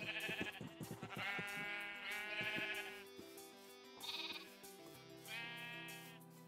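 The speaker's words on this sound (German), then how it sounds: "Aber ich könnte die Schafe nochmal füttern." Several sheep bleat in overlapping calls in Minecraft, fairly quiet, with a steady game background and no talking.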